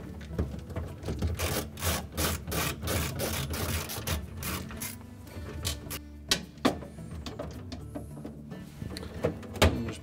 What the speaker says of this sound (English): remove a single quarter inch hex head screw that holds the light shield